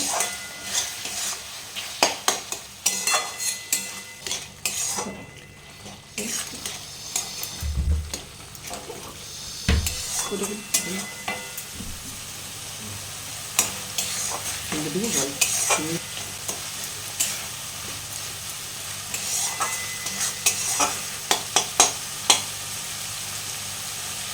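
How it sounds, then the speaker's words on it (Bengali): Kohlrabi and potato curry is stirred in a frying pan, the spoon scraping and clinking against the metal in irregular strokes over a constant low sizzle, with occasional louder knocks. "মাঝে মধ্যে একটু নাড়াচাড়া করব।"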